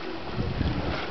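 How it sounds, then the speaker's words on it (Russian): Strong wind at a lakeside with the start of a storm buffets the microphone in a dense, rumbling roar, steady and close throughout. "Сегодня, правда, очень сильный ветер."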